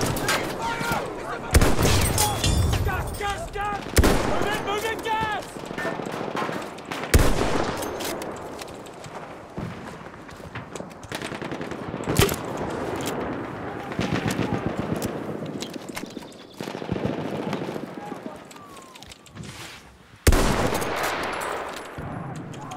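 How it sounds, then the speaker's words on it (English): Machine gun fire in the first-person shooter Battlefield 1, with loud bursts and single shots cracking at irregular intervals over continuous battle noise. Voices are heard in places. "Enemy machine gun sighted."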